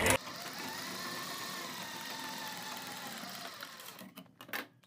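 Sewing machine stitching the collar of a kurti, running close and steady in a fast continuous whir, then slowing and stopping near the end with a few faint handling sounds.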